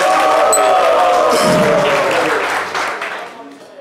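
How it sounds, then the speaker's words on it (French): A studio audience at a French-language talk show breaks into loud applause and cheering that fades away toward the end, with a voice speaking over it. "Bonne réponse, on peut l'applaudir."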